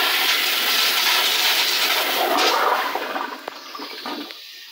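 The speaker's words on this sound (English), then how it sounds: "Now this is how modern toilets would flush." A Crane Placidus toilet, converted from 1.6 to 3.5 gallons per flush, flushes with a loud close rush of water that fades into gurgling and trickling refill.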